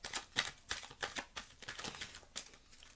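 Tarot cards are shuffled by hand in a quiet room, a run of soft, quick riffling snaps and flicks in an uneven rhythm, close and fairly faint, with no talking.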